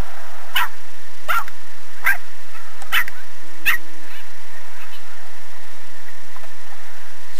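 A dog barks five sharp, separate times at roughly even intervals, close and clear against an otherwise quiet background.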